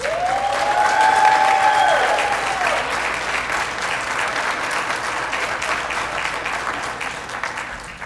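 A crowd at a town centennial celebration applauds the two newly named Centennial Duchesses, with a steady wash of clapping that swells early and gradually tapers, a brief whoop or cheer rising near the start.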